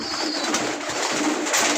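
Colouring pigeons coo softly inside a loft, low murmuring calls blended with a steady hiss of background noise and light fluttering, fairly close and continuous.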